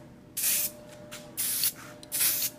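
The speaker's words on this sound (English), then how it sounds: "We're going to spray some primer on our little diecast and get started on the paint process." Primer is sprayed from an aerosol can onto a Hot Wheels 2003 1st Edition Dodge M80 diecast car: three loud, close hissing bursts of about a third of a second each, separated by short quiet gaps.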